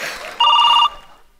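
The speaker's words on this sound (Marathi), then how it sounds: "फोन आला." A telephone gives a single short electronic ring, a clear bright tone lasting about half a second, close and loud against a quiet room.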